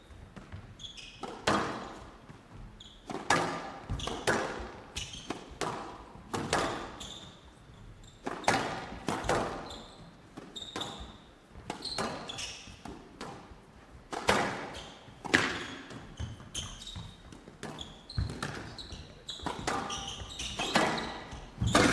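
A squash ball thuds repeatedly off walls and racquets in a fast, irregular rhythm during a long professional PSA World Tour rally, with squeaking shoes and no talk.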